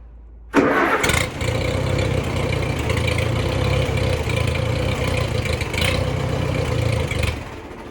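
An Allis-Chalmers WD tractor engine cranks and catches after a brief quiet start, then runs loud and steady close by for several seconds with no voices.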